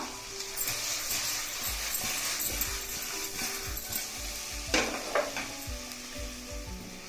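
Colocasia (taro) pieces stirred in a frying pan, with a constant sizzle under rhythmic scraping strokes and a louder clatter of the spoon partway through.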